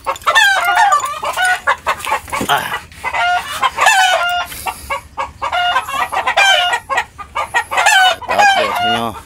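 Chickens cluck busily and loudly without pause, with occasional crowing mixed in among the dense, overlapping calls.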